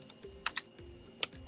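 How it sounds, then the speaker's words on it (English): A few sharp computer keyboard keystrokes click in an irregular burst, close and crisp, over a quiet room background with no talking. "So it's just a little bit of typing here."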